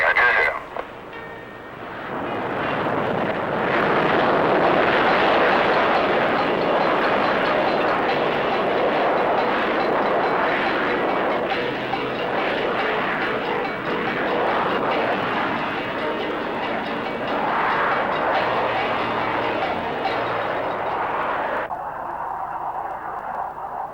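An English Electric Lightning jet fighter roars loudly and continuously for about twenty seconds at takeoff power, then the noise cuts off abruptly, leaving a quieter hum.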